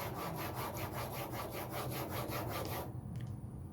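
Steel blade honed on a sharpening stone in a Veritas honing guide, a steady run of close, even back-and-forth rasping strokes for about three seconds before stopping abruptly.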